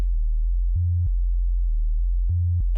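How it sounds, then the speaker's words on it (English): A deep, pure synthesizer bass tone from the sub output of a Make Noise Soundhack Spectraphon spectral oscillator drones steadily, shifting between a few low notes in a simple repeating pattern. "taking the sub output from A, which you'll hear, nice low end"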